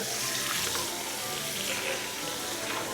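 Air fryer parts are rinsed under a running tap to wash off grease, with steady, close water noise splashing continuously throughout.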